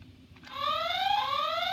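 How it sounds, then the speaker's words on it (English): An electronic alarm from a car racing game starts after a brief quiet moment, then rises into a loud, shrill, sweeping siren-like tone that climbs steadily in pitch and stays sustained to the end. "So there's an alarm you can play."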